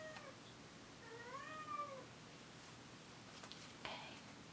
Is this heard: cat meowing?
yes